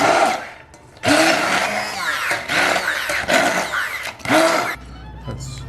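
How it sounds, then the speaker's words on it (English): Stick blender whirring through cooked cauliflower to mash it, in several loud bursts separated by brief pauses, with a motor pitch that shifts as it churns. "It's a stick blender. And it's the best thing to use to mash up cauliflower"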